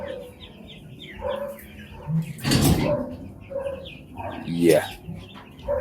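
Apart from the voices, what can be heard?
broiler chickens clucking in brooder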